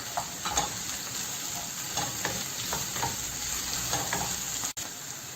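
Garlic cloves frying in a pan give a steady, close sizzle with occasional stirring scrapes, constant and moderately loud, with no one speaking.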